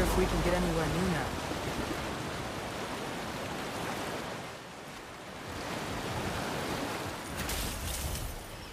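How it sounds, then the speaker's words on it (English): Moving water in God of War Ragnarök makes a broad, steady rushing and surging wash, loud and continuous, with a faint voice at the start and brief brighter splashes near the end. "The water's moving."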